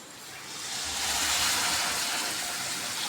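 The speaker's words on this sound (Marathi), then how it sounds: "गरम पाणी ठेवलं होतं, आता भाजीत टाकून घेऊया आपण" Hot water is poured into potato bhaji in a pan, giving a soft, rushing hiss that swells over the first second and then holds steady. It is fairly faint and close.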